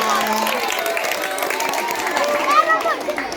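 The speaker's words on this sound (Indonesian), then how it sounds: "Iya, tepuk tangan untuk kita semua." Children in a school gathering clap and chatter together, a mid-level spread of applause mixed with excited voices and a few shouts, crowded and close.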